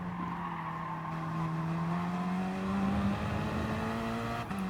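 A Gr.3 race car from Gran Turismo Sport circling Interlagos, its engine holding a steady loud drone with a rising pitch as it accelerates, plus a faint tire squeal, continuous and close with no talking.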